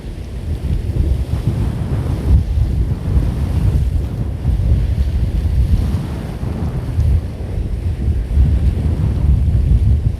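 Strong wind buffets the microphone on the Iceland coast in November, a loud, continuous roar with surging gusts and the low wash of surf beneath, with no voices.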